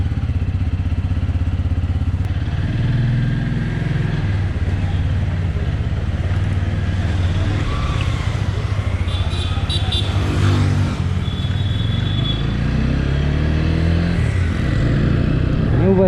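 A 2021 TVS Apache RTR 200 4V BS6 motorcycle with a fuel-injected 200cc engine runs steadily, a loud continuous low drone with slight rises, heard while people talk close by.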